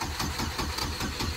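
A turbocharged Chevrolet Cavalier engine cranks without catching, a steady rhythmic chugging of the starter and engine about five times a second, loud and close, with no voices.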